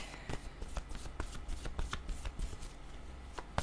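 Tarot cards are shuffled and laid out, with a quick run of crisp, close flicks and soft slaps repeating at an irregular rhythm, with no talking.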